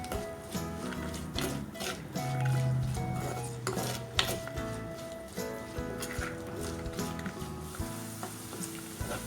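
Onions sizzling in salt as they sauté in a pan for a Kerala-style crab roast, a steady close frying hiss broken by scraping stirs and clinks of a utensil against the pan.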